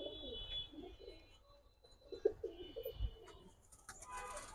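Giribaz high flyer pigeons give soft, scattered coos at close range, faint and intermittent against quiet background noise, with a few light bumps and rustles.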